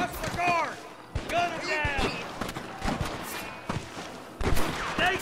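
Shots crack sporadically during a Red Dead Redemption gunfight, sharp isolated reports scattered among loud shouting voices that dominate the scene.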